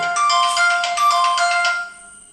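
A mobile phone ringtone plays a bright electronic melody, loud and close, for about two seconds before cutting off, with no voices over it.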